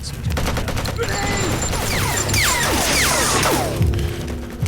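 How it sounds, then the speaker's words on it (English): Dense gunfire and a crashing impact in a first-person shooter game as a crate is shot, with whooshing game effects and sweeping tones over a steady loud bed and some speech. "Hold on, I reckon I'm going to shoot this crate."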